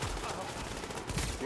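Video game gunfire in a street firefight between a patrol and hostile cleaners, a short dense burst of rapid shots over a steady rumbling background, fairly loud and continuous.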